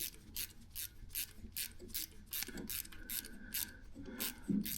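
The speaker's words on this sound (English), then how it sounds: "Yeah, we'll run the ratchet in it." A ratchet drives a thread tap through an old engine bolt hole, giving a steady run of short, raspy clicking bursts up close, with a faint grinding scrape beneath.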